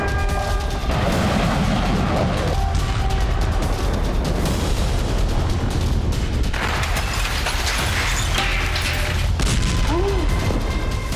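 Missile strike explosions in the Russia–Ukraine war, including a KH-101 attack on the Kremenchuk oil refinery and missile barrages on Odesa, heard as continuous loud booming and rumbling blasts with layered debris and chaotic noise throughout.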